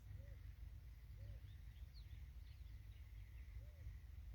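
Birds in a garden give faint, scattered chirps and short whistled notes over a steady low background hum, quiet and somewhat distant.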